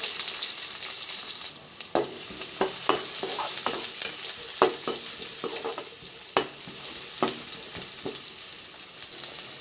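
Chopped onions sizzling in hot oil with popped mustard seeds, cumin and fennel, a steady crackling fry with occasional sharper pops and stirring clicks, close and fairly quiet, no voices.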